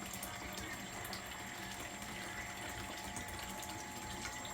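Water drains steadily from a home water heater, a continuous even rush of flowing liquid with a pump-like hum and no pauses.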